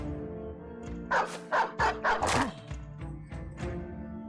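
Dogs barking in the video game Battle Brothers, a quick run of about five sharp, loud barks mixed with yips over a low game background, followed by quieter whimpers.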